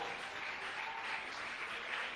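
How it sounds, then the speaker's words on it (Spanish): A church congregation applauds, steady dense clapping from many hands, moderately distant, without talk. "¿Habrá alguien que pueda dar aplausos al nombre del Señor?"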